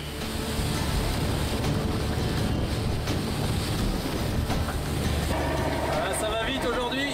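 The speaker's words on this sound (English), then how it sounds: "Here's a rear roaring 40 squall. Dark sky right behind. Growing wind" A Roaring Forties squall sweeping over a racing sailboat in the Southern Ocean during the Vendée Globe, with winds of about 25 to 30 knots. Wind roar and rushing water form a loud, steady, dense wash that does not let up.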